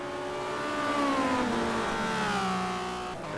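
A Ferrari touring car races on the Nordschleife in a 1990 WTCC race, its engine a loud, close, rising and falling wail with gear shifts, heard alone without talk.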